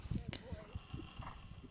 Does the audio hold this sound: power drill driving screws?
no